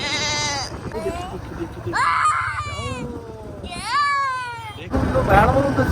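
Goats bleat in several wavering, drawn-out calls close by, separated by short pauses, with some background noise between them.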